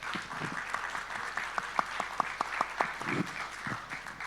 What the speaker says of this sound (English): Perhaps we could give a round of applause to our distinguished panelists.